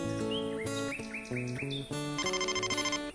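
A cartoon mobile phone ringtone plays alone, a bright, busy electronic melody of short chirping tones and a rapid trilling pattern near the end.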